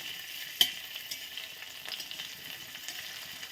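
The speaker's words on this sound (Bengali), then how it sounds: "আর এই যে রসুনটা আমি থেতো করে নিয়েছি তেলের মধ্যে এখন আমি দিয়ে দিলাম" Crushed garlic and dried red chili frying in hot mustard oil, a steady soft sizzle with a sharp clatter as a utensil stirs, then light scraping ticks over the crackle.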